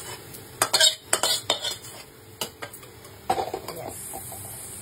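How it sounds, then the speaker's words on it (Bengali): Kochu (banana) flower curry with garlic and prawns is being sautéed in a pan, with sharp scraping and clinking spatula strokes in bursts over a faint sizzle, close by, and no speech. "এরকম কষাতে হবে, দারুণ একটা গন্ধ ওঠে এই কষানোর জন্য"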